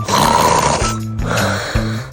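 A person's voice imitates loud, heavy snoring, with rough, rumbling inhalations and throaty snorts that repeat in a slow rhythm, close and loud throughout.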